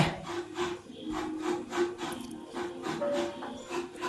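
Fresh coconut being scraped on a traditional hand grater in a home kitchen, giving a steady run of close, rhythmic rasping strokes with no talk over it.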